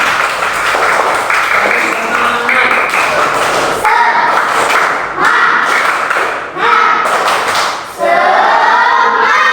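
A fifth-grade class claps hands in uneven bursts mixed with taps and thumps, loud and close, broken by brief pauses, with voices and a tonal, sing-song sound woven through.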